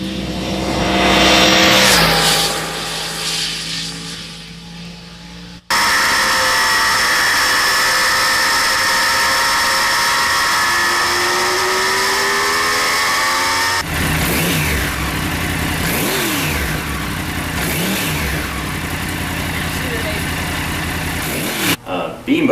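A 2009 Yamaha R1 (YZF-R1) motorcycle engine in its most aggressive power mode, loud and close, revving hard and rising in pitch in repeated pulls, with a sharp cut partway through and no talking.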